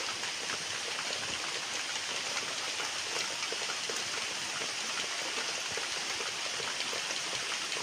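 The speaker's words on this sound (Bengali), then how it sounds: "বৃষ্টিটা এখন হচ্ছে" Steady rain falls close by outside a house with trees and a beehive nearby, a dense, even hiss with faint droplet patter that holds constant throughout, with no voices.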